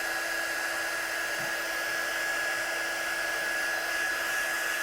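A craft heat dryer drying watercolour on a stamped flower image, blowing as a steady, loud, high-pitched whir with a constant tone that never changes for the whole stretch.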